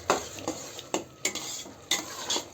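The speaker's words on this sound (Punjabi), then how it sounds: "ਹੁਣ ਆਪਾਂ ਹਿਲਾ ਲਾਂਗੇ ਇਹਨਾਂ ਸਾਰਿਆਂ ਨੂੰ" Spoon scraping and knocking in a pot of sweet zarda rice, about six distinct stirring strokes over a soft background sizzle, close and moderately loud, with no speech.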